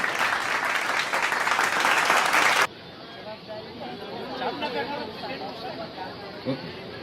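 A crowd claps loudly and steadily for nearly three seconds at the 20th community mass wedding ceremony of the Vishwakarma Samaj at Girnar Darwaja, Junagadh. The applause then cuts off abruptly into a murmur of people chatting.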